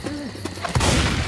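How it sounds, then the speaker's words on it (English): Shotgun blasts ring out in the zombie shooter Left 4 Dead 2, a sharp report followed by a dense, roaring burst of gunfire and chaotic action, loud and close amid a brief voice. "Shotgun."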